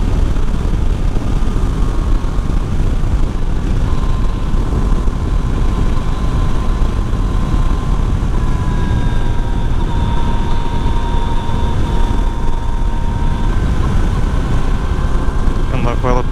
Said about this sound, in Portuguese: Tá dando umas falhadinhas de baixo a moto